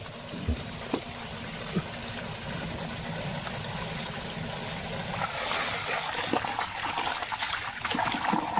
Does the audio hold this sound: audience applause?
no